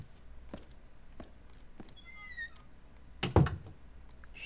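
A door opening in the stealth game Thief: Deadly Shadows, a single heavy thunk with a creaking scrape, preceded by soft footsteps and faint taps, quiet overall.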